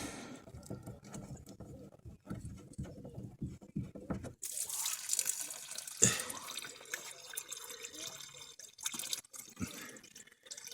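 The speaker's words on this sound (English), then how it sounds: "open up the reservoir, the cap, so all the plumbing antifreeze can come out" Plumbing antifreeze drains from the opened water reservoir of a pop-up camper, a faint trickle and spatter of liquid with scattered drips and small knocks, fairly close and quiet.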